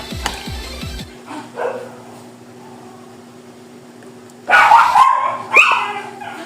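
A dog barks in the background of a game session, a few short yaps early, then two louder bursts of barking near the end after a quiet stretch.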